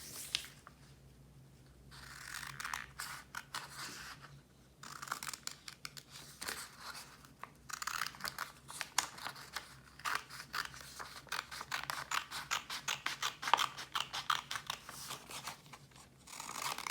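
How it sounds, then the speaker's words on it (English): Scissors cutting triangles out of folded paper, close and quiet, with a quick series of crisp snips and paper rustles that grow busier after a short lull. "Then you are going to cut out the triangles or the mountain."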